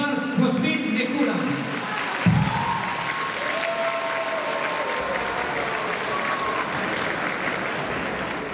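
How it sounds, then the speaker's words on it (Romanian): Applause for the mayor at a Christmas event, a sustained crowd clapping that fills the space with steady hand claps while an amplified voice and music tones sound over it. "Aplauze pentru domnul primar Cosmin Necula."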